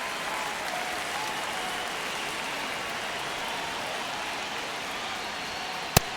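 Baseball stadium crowd at a one-run Braves vs. Dodgers game in the ninth inning, a steady broad roar of cheering and applause throughout, with one sharp knock near the end.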